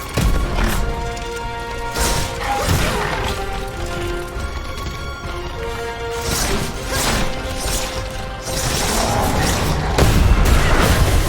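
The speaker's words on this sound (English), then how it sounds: "let's go for some grenades here" Heavy grenade explosions boom and crash repeatedly in Steelrising during a centaur boss fight, loud and close, layered over metallic clanks and battle music.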